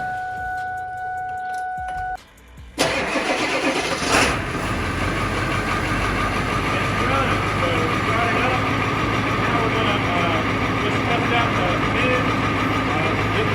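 A Ford 7.3L Powerstroke diesel truck fitted with a performance chip cranks and fires up, then settles into a loud, steady idle that stays close and constant to the end.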